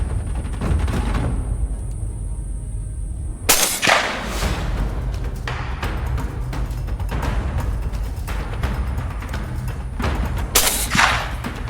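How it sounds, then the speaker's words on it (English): A loud hunting rifle shot cracks sharply, followed by a second later on, with rumbling outdoor background between the reports, during a wild boar hunt. "The sound of the gunshot split the air"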